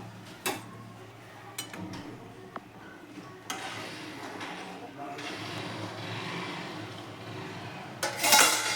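Spoon working through cooked brinjal (eggplant) curry in a pan, giving soft scraping stirs and a few sharp metal taps and clinks against the pan, with quiet background noise and a bright clatter near the end.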